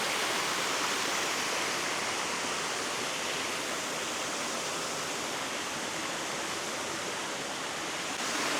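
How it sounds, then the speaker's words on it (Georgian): Water rushes down a stream in an old Japanese village, a loud, steady broadband roar like a small waterfall, continuous and close with no talking. "აი აქ წყალი ესე ჩადის ქვემოთ"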